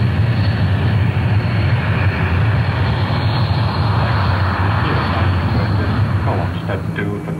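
A SEPECAT Jaguar RAF strike jet sits on an airfield ready for takeoff, its engines a loud, steady roar with a low droning rumble that holds throughout at close range.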